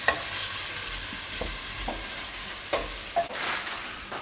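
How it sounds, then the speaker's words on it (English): Onions browning in a pan give a constant soft sizzle, broken by a few scraping stirs and light knocks, close up and without any voices. "I want to brown the onion."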